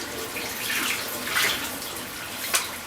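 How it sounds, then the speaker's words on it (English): Hot water runs steadily from a tap with a continuous hissing splash, fairly close, with no talking. "That is hot water. Turn that off."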